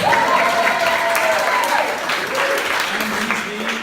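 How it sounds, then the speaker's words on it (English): An audience claps and cheers in a steady wash of applause, loud and close at first and tapering slightly, with a voice talking over it. "Give me a round of applause."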